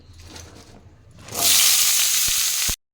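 Diced potatoes hit hot oil with salt and turmeric and burst into a loud, steady sizzle that holds for over a second before cutting off abruptly, following quieter kitchen sounds.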